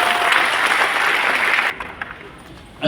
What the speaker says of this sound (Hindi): दोनों हाथ ताली बजाओ